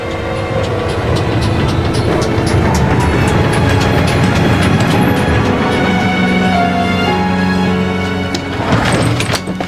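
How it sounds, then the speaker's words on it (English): A train pulling into a station, its loud, continuous rumble and metallic rolling noise building with high squeals and clanks, heard up close with no talk over it. "The train will be here in a minute."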